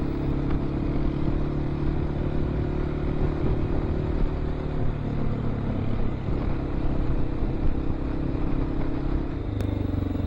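A Honda XR650L motorcycle runs on a trail ride near a waterfall and bridge, its engine a steady close drone with rumble and clatter throughout and no talking.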